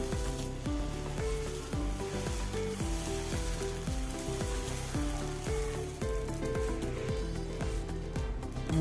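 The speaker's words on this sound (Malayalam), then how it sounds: "മാവ് ഒഴിച്ച് കൊടുക്കാം" Rava uttapam batter sizzles steadily on a hot dosa griddle, a continuous loud frying hiss with no talking, backed by a layer of tonal ringing.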